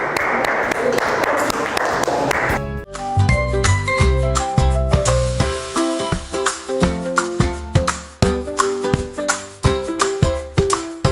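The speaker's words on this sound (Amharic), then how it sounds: "እስቲ አጨብጭቡላት፣ አጨብጭቡላቸው" Children clap over a bright tinkling, jingly melody, with voices mixed in near the start.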